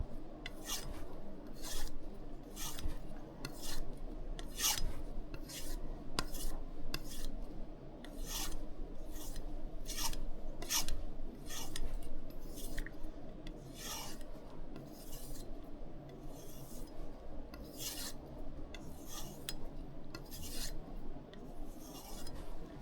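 A knife is drawn over a strop loaded with fine 1 to 2 micron diamond polishing compound, giving a soft rasping stroke repeated in a steady rhythm, about twenty passes, close and fairly quiet with no talking.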